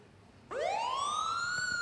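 An ambulance siren starts suddenly and wails upward into a loud, sustained tone, heard close and alone.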